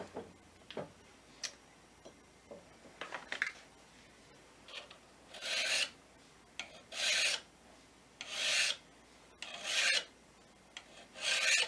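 A steel card scraper is filed with rasping strokes, first light and scattered, then a steady run of about six loud, evenly spaced scrapes close by.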